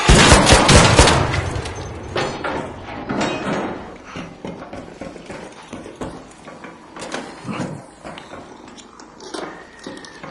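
Shotgun fire in the video game Arc Raiders, several loud booming blasts in quick succession at the start, then scattered shots, impacts and clattering game effects with no talking.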